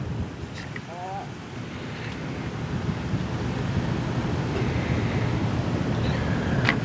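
Ocean surf washes continuously at a beach under steady wind, a broad, even roar that builds slightly toward the end.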